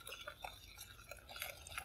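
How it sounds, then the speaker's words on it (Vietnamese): A spoon stirs rice flour batter in a bowl for a banana dish, making light, repeated scraping and clinking sounds up close at a low level. "Cái này mình khuấy"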